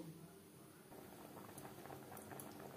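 Dal and rice khichuri simmering in a pot on a gas stove, a soft steady bubbling and pattering that stays quiet and close, with faint kitchen noise and no clear talk.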